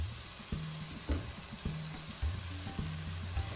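Bottle gourd (lauki) being stirred with milk in a pan on the stove for kheer, a soft sizzle beneath regular spoon scrapes that repeat roughly twice a second, close and steady.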